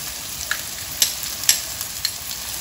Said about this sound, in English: now I'm going to add the basil leaves and the green chili paste